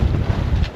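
Strong wind buffets a sailboat reefed down at sea on the Baltic, a loud, gusty rumble pounding close against the microphone with uneven surges and no voices.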